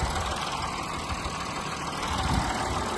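A 2015 Audi A6 C7 3.0-litre diesel engine idles steadily, a low continuous rumble with a faint knocking texture throughout, fairly close and with no talking.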